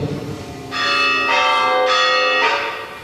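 Church bells ring an unusual peal at a bell ringers' gathering in Viver, Spain, with several overlapping strikes that swell and fade in a rhythmic sequence, loud and resonant.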